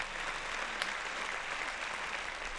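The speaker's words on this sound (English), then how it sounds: "Let's give our opponent a round of applause." Audience applause for an opponent after a Magic: The Gathering Modern match, heard as a steady wash of many clapping hands, fairly loud and continuous throughout with no talking.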